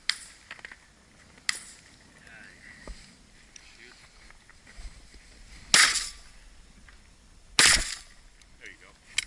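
Two sharp, loud shotgun blasts ring out several seconds apart during a bird hunt outdoors, with fainter clicks and rustles between them and voices talking nearby.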